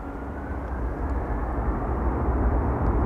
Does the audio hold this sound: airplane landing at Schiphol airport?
yes